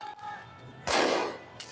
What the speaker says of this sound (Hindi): देखो, वो पटाखे चला रहे हैं।